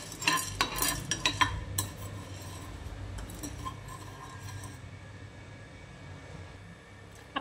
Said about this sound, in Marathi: आता 1 टीस्पून चणा डाळ ही भाजून घेऊया आपण